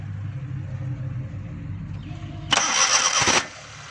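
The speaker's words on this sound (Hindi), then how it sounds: "गाड़ी स्टार्ट करो, गैस पर कन्वर्ट करो।" A Suzuki Ravi engine with a petrol-to-CNG conversion problem cranks and catches, a loud whirring burst lasting about a second before settling back to a low idle rumble.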